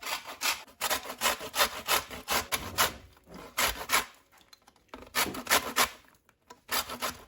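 An ingredient being grated for elderflower champagne, a fast run of rasping scrapes in quick bursts with short pauses between strokes, close and fairly loud.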